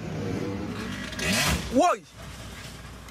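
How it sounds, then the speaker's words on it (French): Motorcycles in a procession of about a dozen rev and roar past, rising then falling away, with a constant noisy background and a voice speaking over it. "C'est un cortège de motos, une dizaine de motos, une douzaine de motos là, qui passent, qui font un bruit assourdissant"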